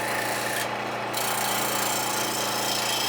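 Old wood lathe with a Reeves drive and slipping belt turning a maple log at slow speed, a loud continuous rough grinding and rubbing noise with a steady mechanical hum, no pauses.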